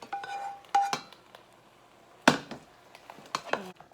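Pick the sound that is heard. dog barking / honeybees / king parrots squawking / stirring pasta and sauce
stirring pasta and sauce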